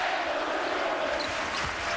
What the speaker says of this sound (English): the crowd chants Ewing's name